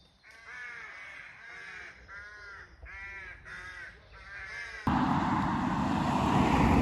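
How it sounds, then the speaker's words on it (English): Crows caw outdoors on a spring day, several harsh calls in a broken rhythm, fairly close, before a loud steady rush of wind or traffic noise takes over. "So lovely to hear the birds and the trees now that it's spring is well and truly here."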